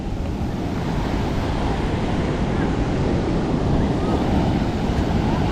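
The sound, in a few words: ocean waves crashing on a beach in Rio de Janeiro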